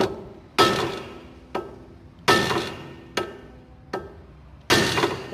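Hammer blows on the tie rod end of a Suzuki Wagon R during alternator replacement: six sharp metallic strikes at uneven intervals, some heavier than others, each ringing briefly, close up and without speech.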